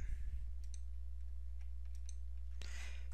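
Several light computer mouse clicks tick faintly over a steady low hum, with a slightly louder burst of clicking near the end; no one speaks.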